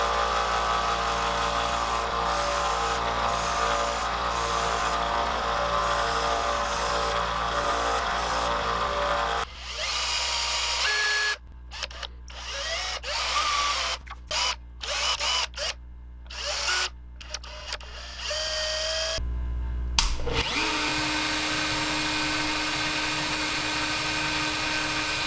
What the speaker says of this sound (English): Little bit of finessing with a Dremel.